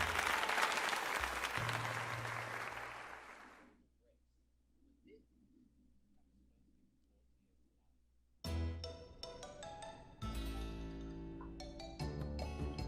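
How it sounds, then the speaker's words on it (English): Synthesized crowd applause in the Pokémon Legends Z-A video game, a loud burst of clapping that fades into near silence, followed by bright chiming game music tones. "let us give another heartfelt round of applause to Destiny."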